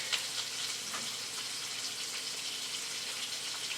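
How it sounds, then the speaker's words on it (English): Chicken breasts browning in a hot pan, a steady broadband sizzle with faint crackles running the whole time, close and even, with no talking. "You're only going to brown them up, sear them up."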